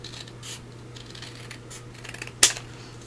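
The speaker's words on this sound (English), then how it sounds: "I'm just going to trim this with my scissors so I can follow that line" Scissors trim paper for a cardstock craft project with faint quiet snips, then a single sharp, crisp cut stands out near the end against a low background hum.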